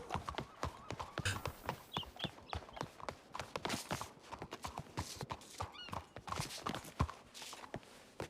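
Horse hooves clip-clop steadily at a walk, close and crisp, with a couple of neighs breaking in over the hoofbeats.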